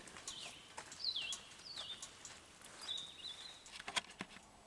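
Birds sing their morning song in the Allegheny National Forest, with several thin, high chirps and whistles at irregular intervals over quiet ambient air, fairly close and clear.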